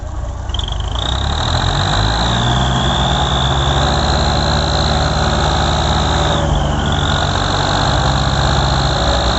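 A tractor engine labours hard while pulling a loaded sugarcane trolley in rain, a loud, continuous close drone with a steady high whine that dips briefly partway through.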